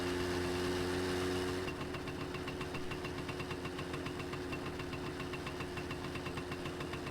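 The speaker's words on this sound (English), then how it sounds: "enjoy some of the most fiercely annoying engine sounds in gaming" Car engine from the video game My Winter Car, a steady, rough and loud idle with a rapid knocking pulse that drops slightly in pitch after a couple of seconds and runs on alone.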